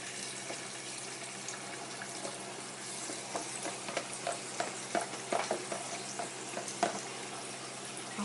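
Plantain frying in a pan gives a steady, close crackling sizzle throughout, with scattered louder pops and spits toward the middle and end, and no voices.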